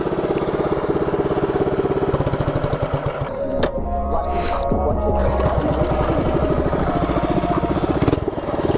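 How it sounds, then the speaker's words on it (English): A small minibike engine runs steadily at close range, a continuous buzzing drone with a brief rev change partway through, loud throughout with no speech. "if you guys haven't seen my mini bike before, this is it"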